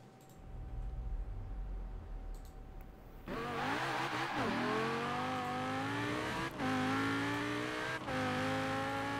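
Car driving in the Forza Horizon 4 video game, an engine revving up through rising gear pulls with brief dips at shifts, loud and continuous after a quieter idle start.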